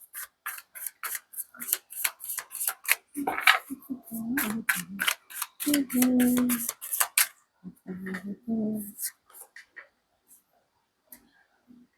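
A tarot card deck is shuffled in quick runs of crisp riffling clicks, first alone and then again near the end. A voice speaks in between.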